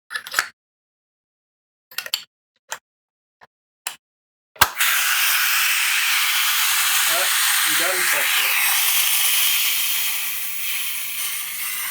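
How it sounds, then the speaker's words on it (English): A gas-powered Nerf MasterKey shotgun attachment fired indoors: several sharp, brief pops spaced apart, then a louder shot followed by a long, steady hiss of escaping gas, with a few faint voices over it. "But let's fire it a couple of times inside, see what we got."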